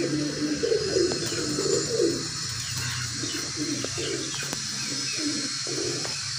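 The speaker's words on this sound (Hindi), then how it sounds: "ए कसूरी कबूतर है जी बहुत अच्छा कबूतर है" A Kasuri pigeon cooing in repeated low, throaty phrases, loudest at the start and continuing at a steady rhythm over a constant background hiss.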